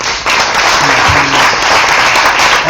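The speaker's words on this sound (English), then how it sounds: "Let's get a round of applause." An audience at a Nashville music-industry event gives a round of applause, a dense, loud burst of clapping that holds steady for about three seconds with no talking over it.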